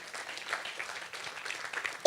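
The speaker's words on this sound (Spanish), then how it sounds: "Den un aplauso al Señor esta noche" Steady applause from a church congregation, a dense wash of clapping at moderate level, swelling slightly near the end.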